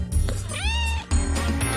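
A cat meows once, a clear rising and falling call up close, with steady background noise and no talk.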